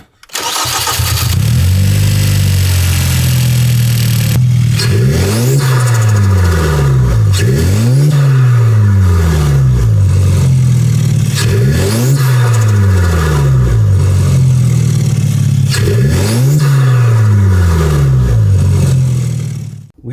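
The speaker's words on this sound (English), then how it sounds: "I'm gonna set this down so you guys could hear how the blow-off valve sounds." A modified Kia engine is revved repeatedly, about six rising and falling bursts in a regular rhythm, each ending with a sharp blow-off valve release, loud and close throughout.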